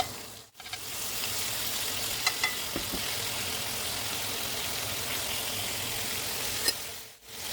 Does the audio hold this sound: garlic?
yes